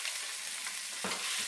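Lean meat frying in olive oil is stirred around the pan for chili verde. A steady close hiss and sizzle runs throughout, with a brief scrape of the utensil near the end and no voices.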